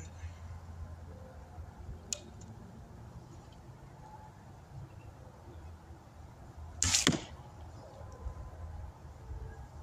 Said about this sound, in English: This bow does not have any string silencers on it, so it is going to sound a little louder than normal